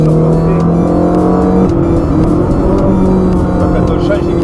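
A Ferrari 360 Modena driven on a circuit, its engine droning loud and steady from inside the car with pitch shifts as gears change, while someone talks over it.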